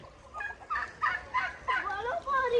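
Roosters on a backyard poultry farm give a run of loud, harsh squawking calls, about five close bursts in quick succession, while being caught by hand.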